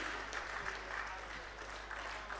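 Applause greeting the chief guest at a convention inaugural session, a steady, faint patter of many hands clapping in a hall that carries on without pause.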